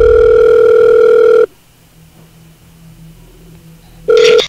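A mobile phone call to a scammer gives out an outgoing ringback tone: a loud, steady electronic tone that stops, leaves a quiet gap, then starts again.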